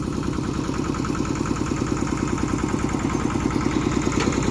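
A farm tractor's engine idles close by in the early morning, a steady, even mechanical chugging with a rapid regular rhythm that holds at a constant level throughout, with no voices.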